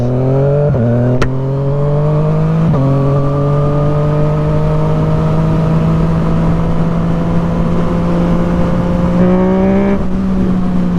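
A Yamaha MT-09 motorcycle engine runs steadily with a loud, close droning hum, with a few quick blips of the throttle rising briefly in pitch.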